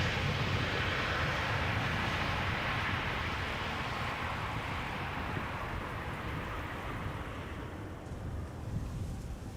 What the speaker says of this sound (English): KLM 737 arriving from Rome. 737-800.